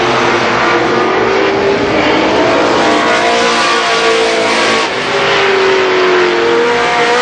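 Race cars on the last lap at Columbus Motor Speedway roaring around the oval in 1990, a loud, continuous engine drone that rises and falls as the pack circles, with no voices.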